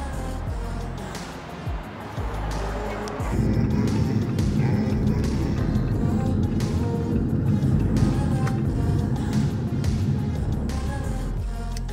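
A car drives through a city neighborhood, its steady low road rumble and engine noise filling the whole stretch, growing louder and fuller partway through, with faint voices now and then.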